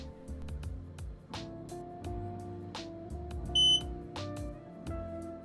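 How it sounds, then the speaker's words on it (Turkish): A single short electronic startup beep from a Xiaomi Mi Smart Air Purifier 4 Lite sounds once, high and clear, over soft background music with a steady rhythmic beat. "Açılışta bir bip sesi duyduk."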